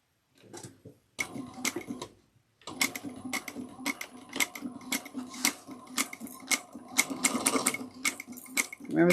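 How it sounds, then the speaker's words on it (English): A sewing machine stitches a 3/8-inch seam on a fabric bag, running in a fast steady whir after a brief opening burst, with short stops and restarts and dense needle clatter up close. "We are going to sew 3/8 of an inch."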